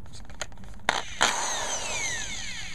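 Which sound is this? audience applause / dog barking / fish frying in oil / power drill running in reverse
power drill running in reverse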